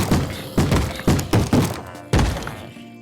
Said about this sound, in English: Every night there'll be zombies banging on doors.